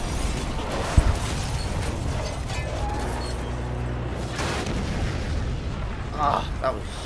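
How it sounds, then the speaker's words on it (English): A video-game explosion in Spider-Man, a deep boom with rumbling debris followed by mechanical game sounds, heard beneath a player talking excitedly. "that was stunning, that visual explosion"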